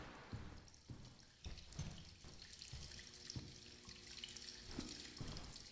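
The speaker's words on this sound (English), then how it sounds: "It's weird that there's water running in here, because you wouldn't expect it" Water running steadily in a building in the video game Dead Letter Dept., a faint trickling flow with irregular soft drips and knocks scattered through it.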